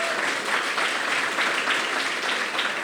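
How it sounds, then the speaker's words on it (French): Steady audience applause fills the whole stretch at an evening eloquence tournament, dense and even with no break, a continuous wash of many hands at moderate loudness. "Vous pouvez l'applaudir, Zoé."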